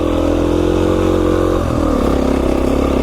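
A Beta 500 RR-S dirt bike climbs singletrack with a loud, close, continuous engine drone that dips and rises slightly as the rider works the throttle.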